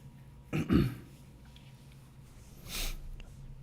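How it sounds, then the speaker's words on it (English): A young boy gives a short rough cough and throat clear, then a breathy snort-like exhale a couple of seconds later, close and fairly quiet over a low background hum. "He's got this nasty cough."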